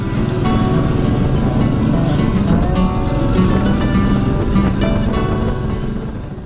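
A Royal Enfield Meteor 350 motorcycle rides on a dirt jungle track in Rajasthan, its engine holding a loud, continuous drone close to the microphone under heavy wind rush.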